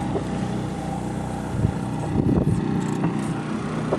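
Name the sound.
sailboat running on its engine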